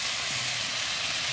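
Ground ginger and cumin paste hitting vegetables frying in a pan for a vegetarian curry, producing a loud, steady, close hiss of sizzling oil with no pause.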